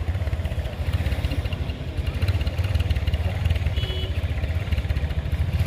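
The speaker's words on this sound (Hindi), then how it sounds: "अरे भाई के पास हमारा 2022 मॉडल ट्रैक्टर है, 265 अभी नया लाया भाई" A new 2022 model 265 Power Plus tractor runs close by with a steady, chugging engine beat and a faint metallic clatter. The pulse holds even throughout, with no voices over it.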